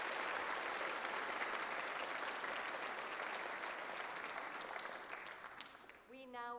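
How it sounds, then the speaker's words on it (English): A Girl Scout recognition ceremony audience gives scholarship awardees a steady, full round of applause that gradually fades, ending as a voice begins speaking. "Let's give one more round of applause to all the"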